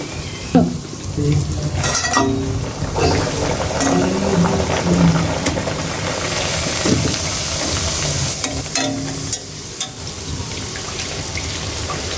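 Luchi puffed bread deep-frying in hot oil, a continuous close sizzle with occasional clinks of utensils against the pan and brief bubbling bursts throughout.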